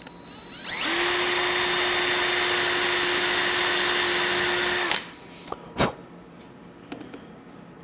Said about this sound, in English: I'm just going to line this up and get my pilot drill in